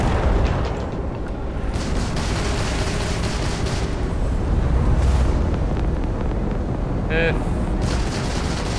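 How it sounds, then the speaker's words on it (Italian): Missiles fire and explode during combat in the video game Starfield, a dense, loud barrage of booms and blasts rolling almost without a break, with a brief whistling streak near the end. "Spara i missili, dai, vai adesso!"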